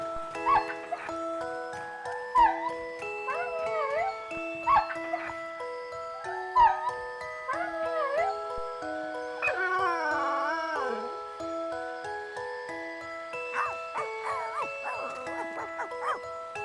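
A dog whimpers and howls in drawn-out, wavering cries near a train, rising and falling in pitch over a steady sequence of calls, with faint jingling and clicks underneath.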